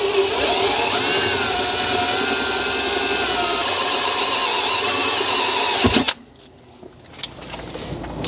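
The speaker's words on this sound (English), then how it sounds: "Now with my 1/4 inch bit with a drill stop installed." Power drill with a 1/4 inch bit and a drill stop boring into a floor system, a loud sustained whine for about six seconds that stops sharply, followed by faint clicks and handling noise.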